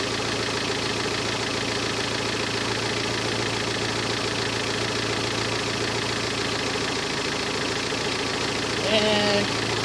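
An electric radiator cooling fan fitted to a Geo Tracker runs at its second speed with a steady, even whoosh and hum, loud and close, with a low idling engine drone underneath throughout.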